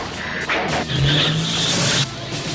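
A truck rig in a cartoon drives hard with the engine revving loud and close, a rising whine and tire squeal over a dense motor roar.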